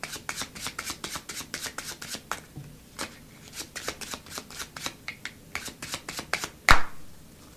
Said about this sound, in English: Groups of cards are taken from the right hand and dropped onto the left hand, just like this.